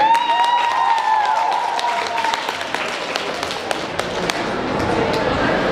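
Audience applause at a festival closing ceremony on stage, a dense steady clatter of many clapping hands lasting throughout, with sustained tones and chatter mixed underneath.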